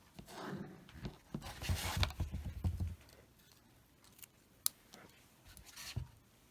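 Scissors snip through the cord of a small handmade drawstring bag, giving a short run of close, crisp cuts and rustling followed by a few scattered faint clicks.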